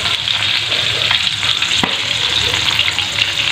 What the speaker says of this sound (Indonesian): Ini kita goreng sebentar ya teman-teman